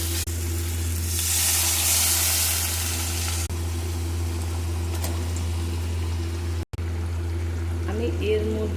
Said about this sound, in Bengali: অল্প একটু নেড়ে জল দিয়ে দেবো।